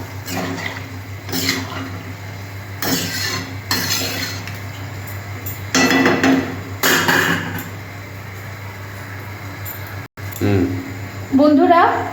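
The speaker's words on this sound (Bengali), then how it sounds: "আমি জল দিয়ে দিচ্ছি।" Water poured into a pan of potato and pumpkin frying for a catla fish curry, with intermittent splashing and sizzling clatter over a steady stove hum, and a voice talking throughout.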